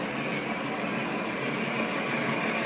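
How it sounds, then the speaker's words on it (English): A train rolling past in a rail yard, a steady, continuous rumble and hiss at close range that holds even and unbroken throughout, with no voices. "Get a view of all the trains passing by in this area"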